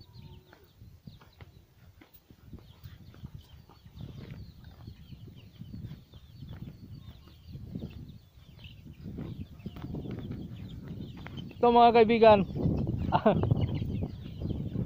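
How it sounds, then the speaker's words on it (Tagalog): Hybrid chickens and chicks cluck and peep softly around a farmyard while someone talks, with a louder burst of clucking near the end. "Maganda itong uri, mga hybrid itong mga manok. Mga sisiw pa, mga sisiw."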